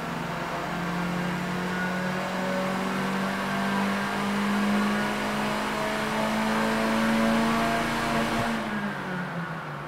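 A Honda City hatchback race-project engine is held at high revs against the rev limiter, a loud, steady buzzing drone sustained for several seconds before it abruptly drops away near the end.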